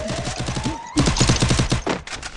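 Rapid bursts of automatic gunfire crackle through a video game shootout in a 4v4 wager match, loud dense volleys packed close together with short gaps between them.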